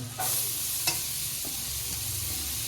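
Onion frying with ginger-garlic paste in a pan for bread bhaji, a steady close sizzle broken by a few scraping stirs of a spoon.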